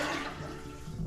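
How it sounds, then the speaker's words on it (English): A newly installed flush toilet rushes loudly with steady turbulent water that keeps going without a break through the whole moment, close by. "Here, I am gonna flush it."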